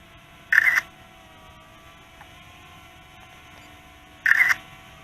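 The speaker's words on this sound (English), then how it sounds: "took a photo there with the hard remote. There we go. There's a shutter." Two crisp electronic shutter clicks from a Potensic Atom drone camera, triggered by the hand remote, sound several seconds apart over a low steady hum.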